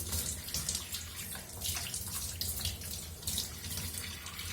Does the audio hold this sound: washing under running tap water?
yes